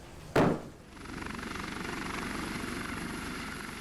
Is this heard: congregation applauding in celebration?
no